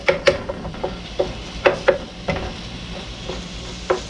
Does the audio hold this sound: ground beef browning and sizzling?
yes